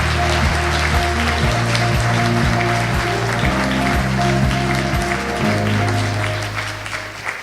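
An audience applauds at a health research award ceremony as two doctors are called to the stage, with steady clapping throughout over a sustained musical backdrop that fades toward the end.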